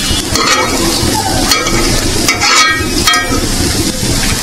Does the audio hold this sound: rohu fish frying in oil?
yes